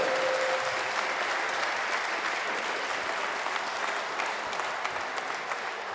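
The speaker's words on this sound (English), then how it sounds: "Big round of applause for Bill" Audience at a British swimming coaches' conference gives presenter Bill Furniss a big round of applause after his freestyle technique session: dense, steady clapping from a large crowd filling the whole stretch, with no voices over it.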